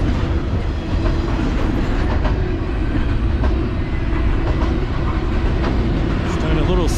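A very long freight train of over a hundred cars passing close at about 30 mph on a night walk in Stockbridge, Georgia, with a loud, continuous rumble and rhythmic clickety-clack of wheels over rail joints.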